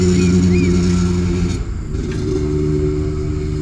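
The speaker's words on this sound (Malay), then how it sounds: "Sekejap, ada bunyi motor." A motor vehicle, probably a motorcycle, rumbles steadily and loudly nearby, its engine droning throughout with a brief dip in the middle, heard outdoors while soil fertility is being checked.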